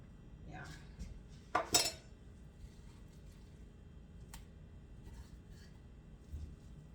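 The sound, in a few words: cutting pork loin filet with cutlery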